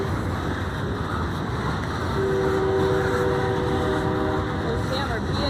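Train horn sounding from a passing local freight train in Beaverton, a steady tonal blast rising over continuous rumbling rail noise at moderate distance.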